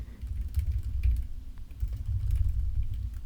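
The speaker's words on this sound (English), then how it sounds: "Let me type in the same keyword that we had set up for contextual targeting." Quick, close clicks of keys on a computer keyboard as a keyword is typed, a steady run of taps with a brief lull midway, no talking.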